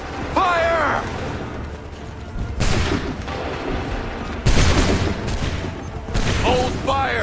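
Musket volleys from a line of soldiers fired on command in Assassin's Creed III, several sharp crackling bursts spaced a second or two apart, loud and close, with shouted orders and battle noise between them.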